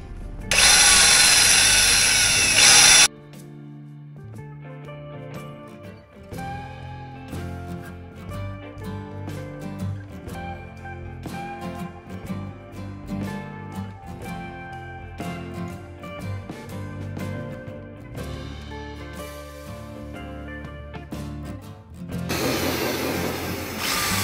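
A power tool cuts and drills a part for a Yamaha Serow 225 motorcycle being converted to tube-type tires, giving a loud, harsh burst of a few seconds at the start and another near the end, with a long quieter stretch between.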